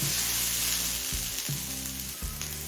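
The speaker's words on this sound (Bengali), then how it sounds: "আলু মূলো আর গাজরটা মিনিট পাঁচটা ভেজে নিলাম" Potatoes, radish and carrots frying in a pan for a Bengali mixed-vegetable dish, a steady close sizzle with brief breaks where the pieces are stirred, and no voices.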